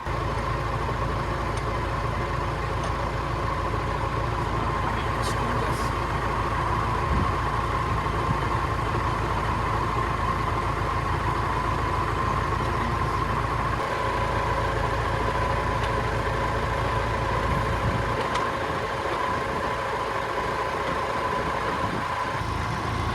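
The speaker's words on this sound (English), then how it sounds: "I'm only trying it out on this to get the tractor warmed up" A tractor engine idles steadily while warming up, a constant mid-pitched mechanical drone with a regular low pulse, close and even in level, with no talk over it.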